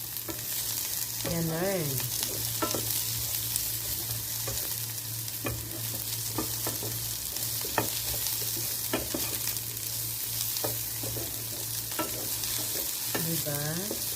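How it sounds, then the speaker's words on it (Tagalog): Okra and a generous amount of onion sizzling steadily in a frying pan, a close, continuous hiss broken by occasional stirring clinks, with a brief spoken word. "pinatry natin yung okra"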